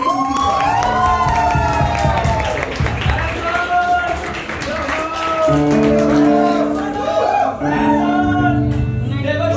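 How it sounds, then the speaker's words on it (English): Audience at a Diwali Night music event at BTU Cottbus clapping, cheering and whooping, a lively crowd roar with shouts and children's voices, while sustained musical tones rise through the second half. "Please can we have a big round of applause for these"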